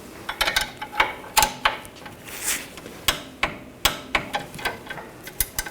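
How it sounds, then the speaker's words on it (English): Ratcheting wrench tightening a rear lower control arm bolt on a 2009-2017 Volkswagen Tiguan, rapid metallic clicks in quick bursts with short pauses, close and sharp, no talking. "Now with a new bolt, you want to torque this to 66 foot-pounds and then an additional 90 degrees"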